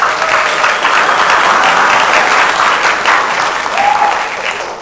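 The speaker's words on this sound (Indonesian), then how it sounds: "tepuk tangan untuk kita semua" Loud, close applause from a classroom of students during a school lesson, a dense, continuous burst of clapping that holds steady and then tapers slightly at the end.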